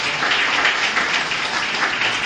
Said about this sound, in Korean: 생각하시면 박수 한번 쳐보세요